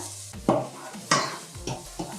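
Onions frying in oil in a large pan, sizzling steadily while a utensil scrapes and stirs them in a few distinct strokes, close and clear with no talk.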